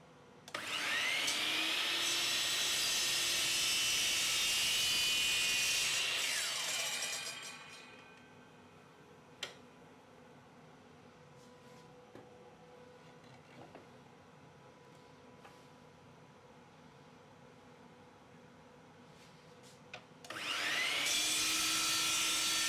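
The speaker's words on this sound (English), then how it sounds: "I've got to chop this piece to length at that line, cut it here" A power saw cuts a piece of wood to length, loud high whining bursts that start, run for several seconds and wind down, with a quiet stretch of small knocks and handling noises between two cutting passes.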